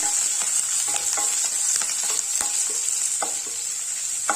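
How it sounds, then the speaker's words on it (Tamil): Long-sliced large onion sautéing in a pan sizzles steadily up close, broken by repeated sharp scrapes and taps of stirring at an irregular rhythm, with no voices. "ஒரு பெரிய வெங்காயத்தை நீல வாக்கில் கட் பண்ணி வச்சிருக்கேன் இதை சேர்த்துக்கலாம் இதை வணக்கிக்கலாம்"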